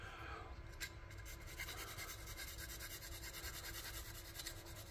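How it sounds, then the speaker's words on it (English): A diamond file rasps back and forth across a G10 knife scale in quick, close, even strokes, steady and alone without talk. "That G10's no match for this diamond file, that's for sure."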